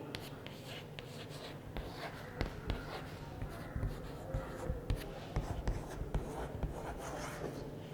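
Pen scratches on paper in a secondary school English class, a faint run of short scribbling strokes and taps with soft classroom murmur in the background.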